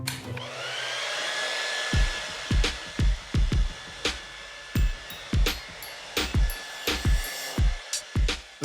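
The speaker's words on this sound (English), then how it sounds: "this is the smartest hairdryer ever built" A Dyson Supersonic hair dryer blows with a steady, high whine of rushing air, close by, while a series of sharp clicks and knocks sounds over it.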